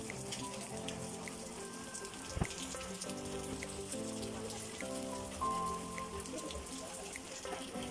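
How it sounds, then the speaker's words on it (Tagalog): Steady rain patters on a surface during a rainy Sunday at a small home store, a continuous close wash of drops with one sharper tap partway through. "Sunday na Sunday, maulan tayo."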